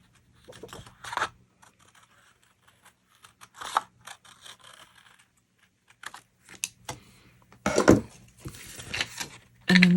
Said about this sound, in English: follow that curve with our scissors.